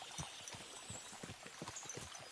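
Horses gallop in a video game with quick, soft clip-clop hoofbeats in an uneven rhythm, faint and distant, with no voices.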